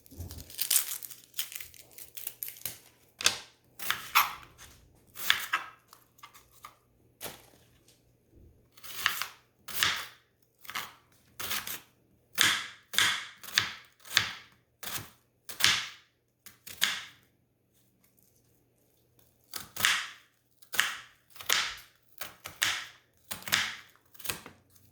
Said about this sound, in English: Okay, next is 1/4 red chopped onion. So I'm going to go ahead and chop this up.